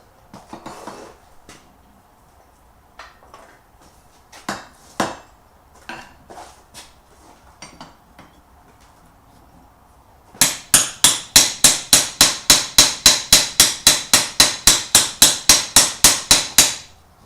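Scattered knocks and taps, then a fast steady run of loud ringing blows from a Damascus hammer on metal while forging, about twenty strikes in quick rhythm, close by.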